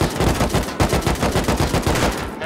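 Rapid automatic gunfire from a Rust raid, a dense, loud burst of shots in steady quick rhythm with no speech.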